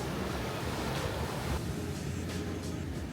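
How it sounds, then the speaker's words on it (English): Ocean waves rolling in at an angle onto the shore of Bantayan Island, heard from a beachfront breakfast spot: a constant, loud rush of surf mixed with wind buffeting the microphone. "checking out the waves, which are really strange"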